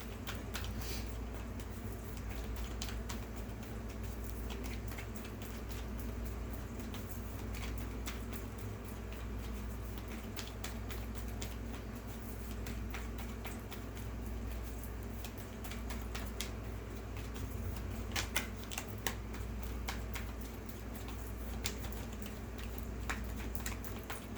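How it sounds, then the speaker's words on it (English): Soft, continuous papery rustling and light clicking of tarot cards being shuffled, steady for a long stretch with a low background hum, no talking. "11 more shuffles, please"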